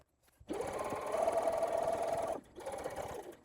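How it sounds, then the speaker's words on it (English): A sewing machine stitches along the top seam of a paper pouch, running in a loud, steady close-up whir for about two seconds, pausing briefly, then starting again for a shorter run. "making sure I'm not missing any stitches, and sewing all the way along"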